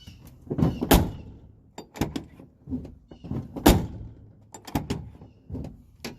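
Front door of a Chevy GMC squarebody pickup truck being swung shut after striker bolt work, producing a few loud, close metallic slams and latch clunks spread across the moment, with no talking.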